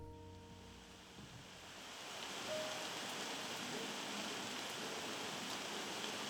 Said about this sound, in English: I do love the rain though.